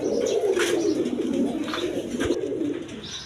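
A pair of silver pigeons at a pigeon sale coo steadily in deep, rolling purrs close by, repeating without pause over a quiet background with no speech.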